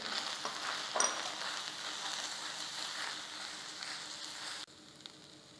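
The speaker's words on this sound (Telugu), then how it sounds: "సో ఒక 2 చెంచాలు వేసుకుని మనం వేయించుకుంటూ వెళ్దాం." Mutton keema frying with roasted gram dal powder for a dry keema fry: a steady, dense sizzle with a brief clatter near the start, then it abruptly drops to a quieter hiss toward the end.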